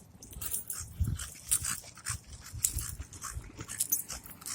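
An American bully dog pants on a walk with quick, rhythmic breathy bursts close by, some sharper puffs and faint whimpery sounds mixed in, with no voices.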